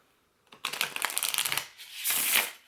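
Smaller tarot-size oracle cards are riffle-shuffled up close, giving a quick fluttering run of papery snaps followed by a short second burst as the deck is bridged back together.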